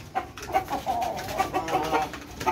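Chickens and a rooster cluck softly and irregularly while being fed grain, close by with scattered pecking and rustling between the calls.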